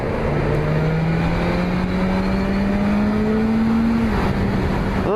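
A sport motorcycle engine accelerates hard on an open road, its rising whine steady and loud under heavy wind rush, with a brief dip near the end.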